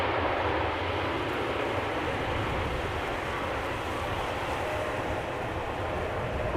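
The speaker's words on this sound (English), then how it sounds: "KLM Embraer, a rare Embraer, and a little CRJ butt shot to boot." A KLM Embraer jet at Amsterdam Schiphol Airport gives off a steady, distant broadband roar that holds evenly throughout, with no voices.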